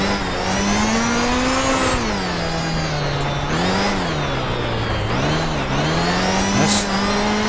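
A Group B Lancia Delta S4 rally car climbing the Transfagarasan mountain road in a racing video game; a loud, continuous engine drone whose revs rise and fall, dipping sharply on downshifts, with no talking over it.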